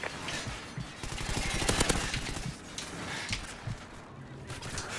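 Video game gunfire during a Strikezone domination match, dense rapid bursts of shots crackling continuously at moderate volume, with some faint movement sounds mixed in.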